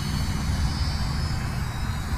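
A 14-gram Flyzone Fokker Dr1 micro RC plane's electric motor runs steadily at about half throttle, a continuous even buzz and whir held close with no voices.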